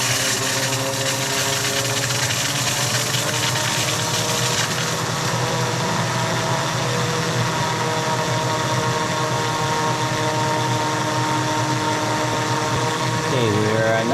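A micro hydro 16-spoon Pelton turbine with an adjustable nozzle runs at 24 volts, giving a steady, loud mechanical whir with rushing water that holds constant throughout, its pitch shifting slightly near the end.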